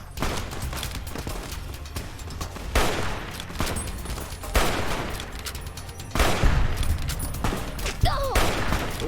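A heavy gunfire barrage in Fallout: New Vegas: loud, dense bursts of shots and explosions repeat in waves over nine seconds, with some voice under the racket.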